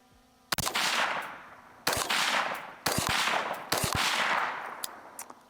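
HK MR556A1 rifle in 5.56 fitted with a Flow 556K suppressor, firing four loud, sharp shots spaced about a second apart, each with a supersonic crack and a fading ringing tail, with no voices.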